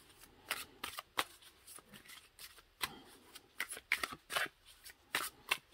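Oracle cards being shuffled by hand in a quiet room, with repeated crisp riffling flutters in irregular bursts, close and fairly soft, no talking.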